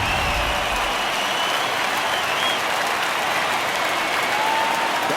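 A home crowd at a Colorado Rockies baseball game applauds and cheers a home run, with dense, loud clapping that carries on steadily throughout.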